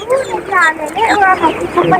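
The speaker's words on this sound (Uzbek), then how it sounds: "mana bu g'oz jo'jalarimiz bor ekan" Goose chicks at a poultry market give repeated high, thin peeping calls in quick overlapping bursts, close and loud, with other fowl sounding nearby.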